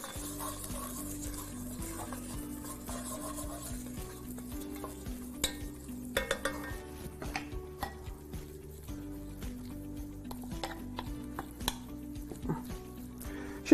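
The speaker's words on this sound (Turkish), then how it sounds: "Bir yandan mercimeği karıştırıyorum" Lentils being stirred in a pot while chicken fries nearby during a home cooking session. A spoon scrapes and clinks against metal in soft, irregular strokes over a faint steady sizzle, with scattered small knocks of utensils.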